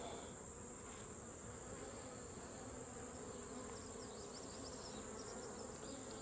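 Honey bees buzz steadily at an open hive while frames are worked during late-summer colony equalizing, a dense continuous hum with no talk over it.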